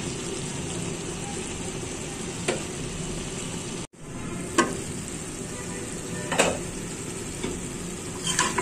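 Shredded cabbage with prawns fries in a pan, a steady close sizzle with occasional stirring scrapes and clinks of a utensil, no talking.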